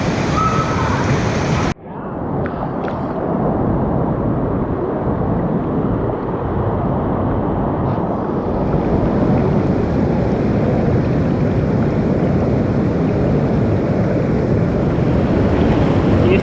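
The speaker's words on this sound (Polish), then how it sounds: "chciałem wam pokazać jacuzzi" Water churns steadily in a jacuzzi at Termy Poddębice thermal baths, a dense, continuous rushing hiss that is loud and close and runs unbroken throughout.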